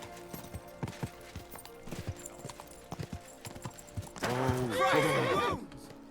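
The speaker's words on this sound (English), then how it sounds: "Watch out with that horse!" A horse in Kingdom Come: Deliverance II clip-clops with steady hoofbeats, then gives a loud, drawn-out whinny near the end, with scattered game sounds around it.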